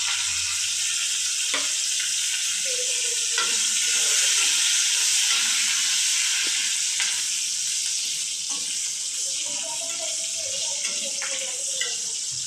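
Onion, garlic, slit green chilies, curry leaves and ginger frying in a pan for a potato curry, giving a steady loud hiss and sizzle throughout with faint occasional stirring and a voice in the background.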